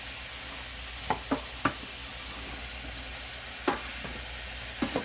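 Vegetables seasoned with curry powder and cooked alongside shrimp sizzle softly in a pan, with a few sharp spatula knocks as they are tossed, no talking.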